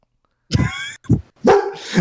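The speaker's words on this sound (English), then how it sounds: "It's my dog." A dog barks close by in two or three loud, sharp bursts separated by short gaps, with nothing else heard around them.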